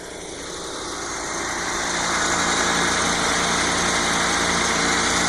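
A Chrysler Fifth Avenue engine idles smoothly and quietly at close range, a steady hum that swells slightly in the first seconds and then holds even.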